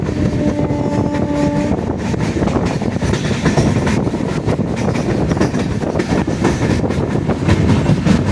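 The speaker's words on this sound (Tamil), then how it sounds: "இந்த ட்ரெயின் தான் போயிட்டு பாருங்க." A passenger train on the Tiruchirappalli to Madurai route rolls past with a steady rumbling roar and rhythmic clatter of wheels on rails, close and loud, briefly with a tonal hum at the start.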